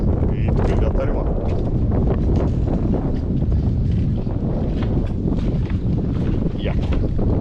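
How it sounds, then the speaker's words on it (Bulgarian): Wind gusts across the bridge to Lisitsite village on the Studen Kladenets reservoir, a loud, steady broadband roar buffeting the microphone throughout, with voices faintly mixed in. "И тук е вятър има."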